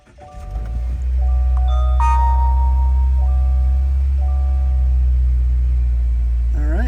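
Subaru Ascent engine starting and settling into a steady low rumble, with chiming electronic tones from the car's startup sounding over it.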